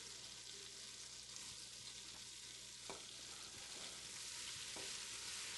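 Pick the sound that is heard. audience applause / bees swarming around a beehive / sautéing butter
sautéing butter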